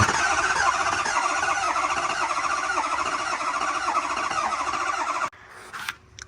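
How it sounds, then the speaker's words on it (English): An old farm truck engine cranking over on a jumped starter relay, a loud steady whirring crank with a squealing edge that cuts off abruptly, leaving quieter clicks and rattles. "Now we want to jump the starter relay and get it cranking oil up."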